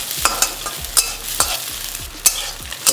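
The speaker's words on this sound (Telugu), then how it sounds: "ఇప్పుడు స్టవ్ని హై ఫ్లేమ్లో పెట్టుకొని కాసేపు ఈ విధంగా వేయించుకోండి" Egg pieces fry in a kadai over high flame for egg fried rice, a loud steady sizzle broken by sharp, regular spatula scrapes and knocks roughly every half second, close and alone.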